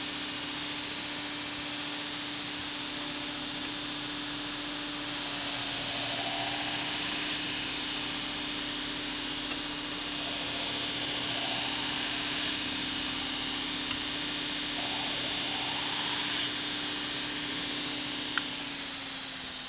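A knife grinder works a 3.5-inch blade, a loud high whining grind rising and falling over repeated passes, with a steady motor hum underneath and no talk.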